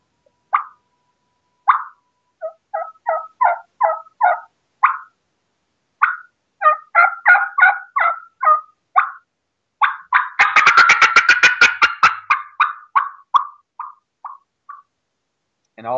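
A hunter's turkey call imitates a hen turkey's fly-down cackle: a string of sharp clucks and yelps quickening into a rapid, excited burst of cackling notes, then trailing off into a few spaced yelps, loud and close with no talk.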